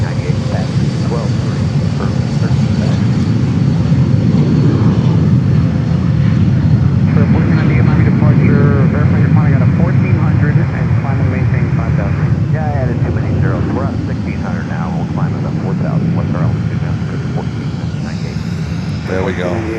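Premier business jet at Fort Lauderdale airport, a loud, steady jet engine roar that holds for many seconds and eases slightly near the end, with a voice talking over it and radio chatter in the middle.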